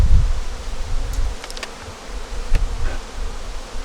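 Honey bees buzz steadily around an opened hive, a continuous close drone with a few brief louder passes and light handling noises, no talking.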